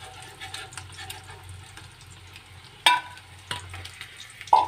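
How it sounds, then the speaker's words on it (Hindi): Eggs fry in oil in a pan for egg biryani, giving a faint, steady sizzle. A few sharp utensil clinks and stirring sounds break through up close. "अंडे हमारे बहुत ही बढ़िया तरीके से फ्राई हुए हैं"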